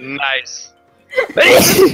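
One sharp sneeze bursts out close after a brief spoken word and a short silence, loud and noisy, trailing into a breathy exhale.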